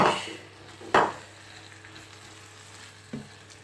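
Okra (bhindi) frying in a pan for bhindi masala: a soft continuous sizzle close by, punctuated by a few loud clattering stirs against the pan, with no one talking.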